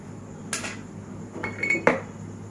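A spoon clinks against a glass and metal as chocolate ice cream is scooped into a milkshake, several sharp taps and a scrape close by, with no talk.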